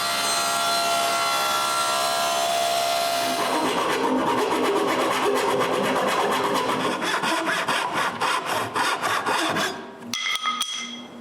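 Wood is shaved from a wooden band saw part with a rasp or saw, giving rapid, regular scraping strokes close up that grow more distinct and rhythmic before breaking off near the end.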